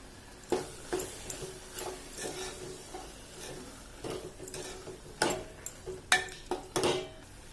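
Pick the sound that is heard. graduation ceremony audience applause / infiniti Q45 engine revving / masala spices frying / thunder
masala spices frying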